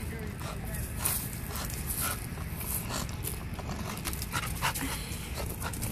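A dog pants steadily and close by, fast rhythmic breaths continuing throughout, with people talking and rustling, scraping noises in the background.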